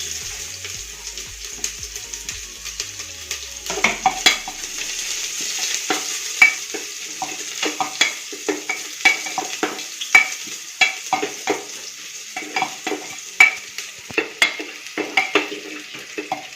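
Finely chopped onion fries with a piece of cinnamon in a pan, a soft steady sizzle punctuated by repeated scraping stirs of a spoon, growing busier over time with no talking.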